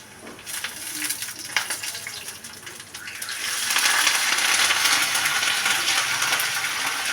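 Chopped ginger, green chillies and curry leaves in hot oil: a quieter rustling start gives way to a louder, steady sizzle that holds to the end, with a few small clinks early on.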